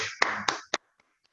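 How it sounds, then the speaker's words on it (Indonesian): A few sharp hand claps ring out in a classroom, three distinct close slaps within under a second, followed by two faint, distant taps as the clapping dies away. "Kasih tepuk tangan lagi."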